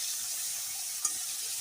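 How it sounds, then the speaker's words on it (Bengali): Fish heads, each cut into four pieces, fry in hot oil in a wok, giving a steady close sizzle with a single soft stir or clink near the middle. "মাছের মাথাগুলো এখন উল্টিয়ে দিই"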